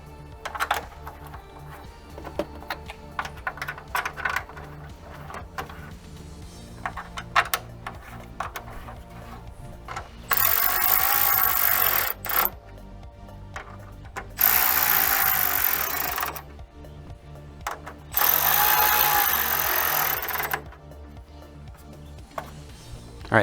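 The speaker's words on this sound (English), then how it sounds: "line it up with the holes on top and put your screws in" Screws being driven in while fitting an aftermarket grill to a Ford Econoline van, heard as a series of close ratcheting, clicking mechanical bursts with a few longer, louder sustained runs of driving; no talk.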